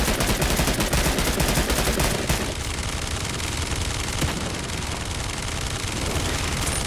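Rapid, continuous video game gunfire rattles loud and close for the full stretch, with dense bursts of automatic shots and no voices.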